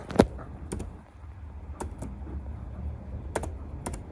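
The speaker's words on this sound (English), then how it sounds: "we go to your browser google and then we type here" A few sharp keystrokes on a computer keyboard at a Windows PC, typed in brief scattered bursts over a low steady room hum, with no talking.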